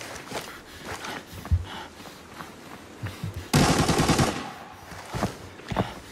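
Automatic gunfire in Arena Breakout, fired from a budget H4 loadout: scattered single shots early on, then a dense, loud burst of rapid fire about halfway through, followed by a few more sporadic cracks.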